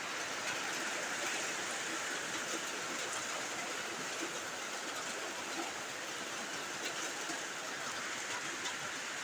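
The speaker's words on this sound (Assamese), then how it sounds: "মই আপোনালোকক দেখুৱাইছোঁ বৰষুণ কেনেকুৱা হৈ আছে" Light rain falls at a distance, making a steady, faint, even hiss with no distinct drops and no voices.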